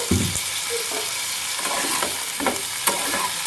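Spices with turmeric and cumin powder sautéing in a pan, sizzling continuously while a utensil stirs and scrapes several times, close and fairly loud.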